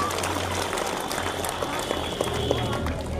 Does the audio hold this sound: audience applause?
yes